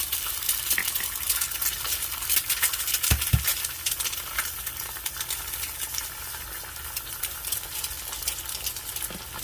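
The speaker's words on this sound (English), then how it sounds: "Fry 2 eggs." Two eggs frying in hot oil in a pan give off a steady, close sizzle and spattering crackle, with a couple of small knocks partway through.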